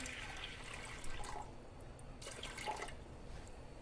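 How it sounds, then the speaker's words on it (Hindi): Water poured into a preheated cooking pot for Peshawari namkeen gosht, about a cup going in as a soft, steady liquid splash and trickle with a brief hiss, fairly quiet and close, with no talking. "उसमें मैं तकरीबन ये है 1 कप पहले पानी का डाल रही हूँ।"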